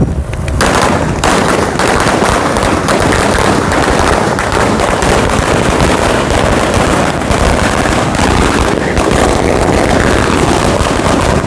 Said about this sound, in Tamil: இளைஞர்கள் இந்த வெடி கொளுத்தி சந்தோஷமாக இந்த நிகழ்வை ஆரம்பித்து வைத்துக்கிறோம்